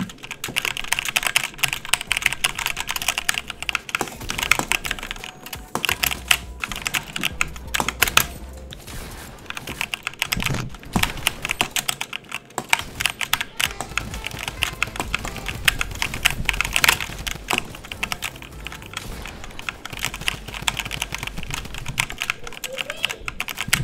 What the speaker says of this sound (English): you're gonna hear my keyboard